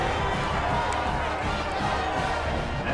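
Football stadium crowd at a UTSA versus Charlotte game roars in a dense, continuous wash of cheering and shouting after a score.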